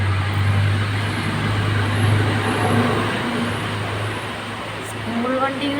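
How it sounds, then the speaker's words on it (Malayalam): Road traffic with school buses and other vehicles rolling past in steady succession after rain, a continuous engine rumble and tyre hiss at moderate distance with a brief air-brake-like hiss near the end. "സ്കൂൾ വണ്ടികൾ പോകുന്നു."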